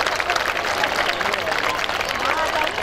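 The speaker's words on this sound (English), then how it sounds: "Kindly give a round of applause." An audience at a school annual day applauds, a continuous dense clapping mixed with crowd murmur and cheering voices.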